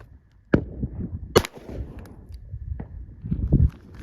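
A single sharp shot from a Springfield Armory 1911 DS Prodigy pistol rings out outdoors, loud and close, followed by a second crack and softer handling noises, with a faint low rumble near the end.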